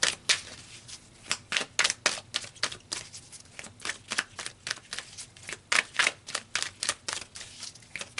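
Tarot cards are shuffled close up in quick, crisp riffling bursts, a steady rhythm of papery flutters and taps repeating for several seconds with no talking.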